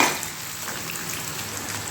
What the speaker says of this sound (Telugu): ఆనియన్స్ వేయించుకుందాం.